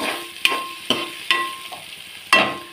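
Food fries in a thick-bottomed pan, a steady sizzle broken by four sharp scraping stirs of a utensil against the metal, spaced unevenly, close and clear with no voices.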